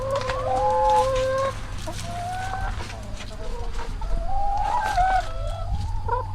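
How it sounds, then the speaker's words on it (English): Several chickens cluck nearby in a series of short, rising calls over a low steady hum. "right here beside the house, there's chickens just scratching everywhere"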